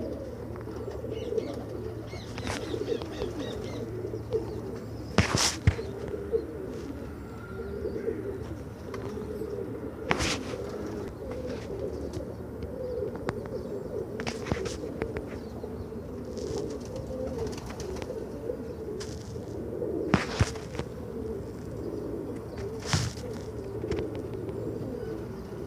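Pigeons at a bustling bird market in Multan, with soft low cooing running throughout over a steady crowd murmur, and a few sharper flutters and clacks standing out now and then.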